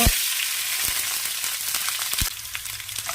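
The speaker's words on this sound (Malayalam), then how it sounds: "അതിലേക്ക് ഇനി ഉലുവ ഇടുന്നേ കൂട്ടത്തിൽ ജീരകവും കൂടി ഇടുകയാണ് വെളുത്തുള്ളി ഇട്ടു" Fenugreek seeds, cumin and garlic sizzle and crackle steadily in hot oil for a banana stem pickle, close and loud, with a few sharp pops and stirring knocks throughout.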